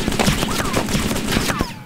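Rapid gunfire from a PKM machine gun in DayZ Overpoch, a dense, continuous burst of automatic shots with ricochet-like whines, loud and steady for about two seconds.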